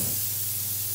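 A stand-style oxygen jet machine sprays through its sprayer nozzle, a close, loud, even hiss held steadily for the whole second.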